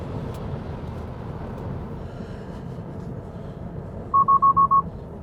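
Five quick, evenly spaced electronic collision warning beeps ring out in a Tesla near a semi-truck, over the steady low rumble of highway road noise.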